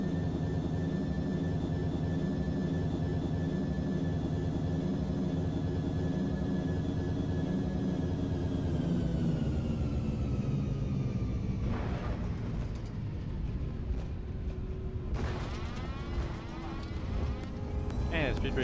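American Airlines A321 airliner landing at Charlotte, heard from inside the cabin as a loud, steady engine drone with whining tones that slowly fall, then rumbling touchdown and roll-out noise with bursts of rushing roar.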